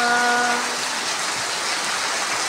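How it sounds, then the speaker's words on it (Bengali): Heavy, steady rain drumming on a tin roof, a loud dense hiss and patter without a break, with a brief low hum fading out at the start. "একেবারে টানা বৃষ্টি হইতেছে"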